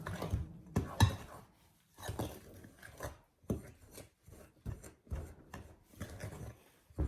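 A spoon scrapes and rasps around a bowl while egg and butter are mixed into cornstarch cookie dough, in short, uneven strokes with brief pauses between them.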